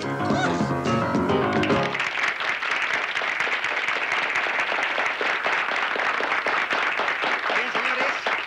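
Studio audience applause on a televised debate show bursts in after a few seconds of music and holds as dense, steady clapping, loud and continuous to the end.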